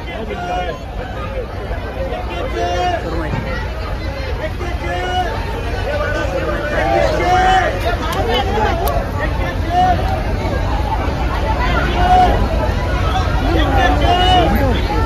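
Dense crowd babble at Bhaucha Dhakka fish market in Mumbai, many overlapping voices near and far forming a loud, continuous hubbub with scattered calls standing out.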